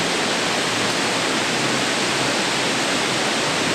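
Waterfall pouring steadily, a loud, unbroken broadband rush of falling water with no other sounds on top and no voices.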